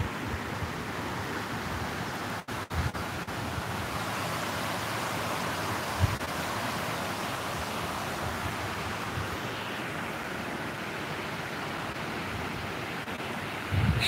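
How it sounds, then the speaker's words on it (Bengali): Steady rain falls outdoors, a dense, even wash of noise that continues unbroken, with a few faint knocks and no speech. "যে বৃষ্টি ধরে।"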